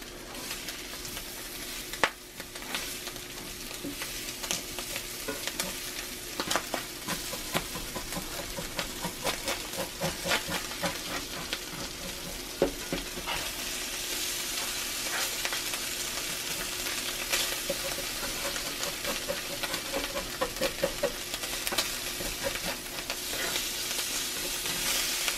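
Corned beef hash fries in a cast iron pan with a steady, close sizzle that crackles and pops continuously, with occasional louder spits, and no talking.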